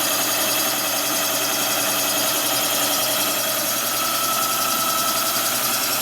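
Kwik-Way boring bar cutting an offset Harley-Davidson shovelhead cylinder, a steady loud machine hum and grinding whir with a continuous rumbling texture, heard alone throughout.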